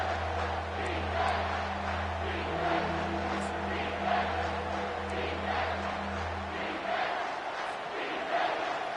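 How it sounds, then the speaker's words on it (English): Football stadium crowd at a Penn State at LSU game roaring on third down, a dense sustained roar with steady low hum, loud and continuous for several seconds with scattered whistles and shouts. "This crowd knows they have to bring it in big moments"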